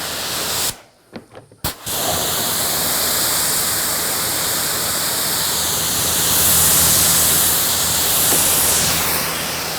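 A steady, loud hiss of rinse water sprays over a Porsche GT3 at a home car wash, broken briefly by a stop-and-start sputter near the beginning before running continuously, close and alone.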